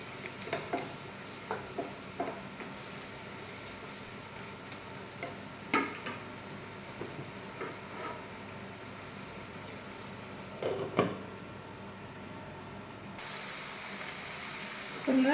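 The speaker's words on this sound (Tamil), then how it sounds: "இதில் நல்லா காஞ்ச மிளகாவும் போட்டுக்கோங்க, இது கூட வேகட்டும்." Dried red chillies and a green chilli fry quietly in a pan, with a soft steady sizzle and a few scattered stirring clicks.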